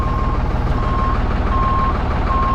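A forklift lifts a 1963 Pontiac Catalina while reversing, its loud alarm sounding steady evenly spaced beeps over a low, rumbling engine drone, close by, with no talking.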